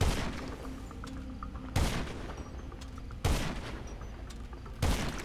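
Gunfire rings out in the video game GTA 5 Online: three loud, sharp bursts spaced about a second and a half apart, each cutting through a steady, noisy game background with no talk.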